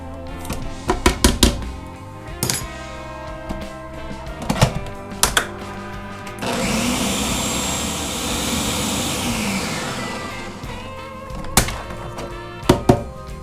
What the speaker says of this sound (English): then I'll blend it on high for a little bit, just until everything looks pretty evenly blended